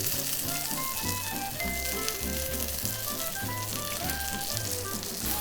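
Skin of bone-in chicken sears in oil in a hot pan for a roast chicken dish. A steady, crackling sizzle runs unbroken under background music.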